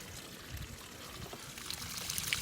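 Water from a hose sprays steadily into a car's fender well, flushing out dirt and a small clump of grass, a continuous hissing splash close by with no talking.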